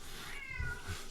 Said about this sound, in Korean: 쌤 고양이 콩이가 심심하다고 막 외쳐대네요.